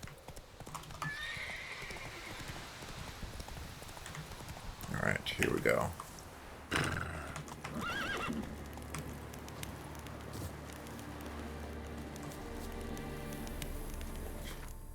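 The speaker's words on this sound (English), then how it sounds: "Wild horse." Hooves clip-clop from a wild horse in The Witcher 3 video game, with a neigh or whinny rising briefly midway over steady game ambience; a voice speaks a few words near the start.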